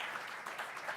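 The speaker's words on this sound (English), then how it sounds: "with a warm round of applause" An audience claps warmly as presenters are welcomed onto the stage at a talk on cross-functional teams, a brief, fairly faint burst of steady clapping with no voices over it.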